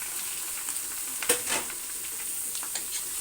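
Meat sizzling in a hot pan with browned onions while being stirred, a steady close frying hiss broken by a few scraping stirs.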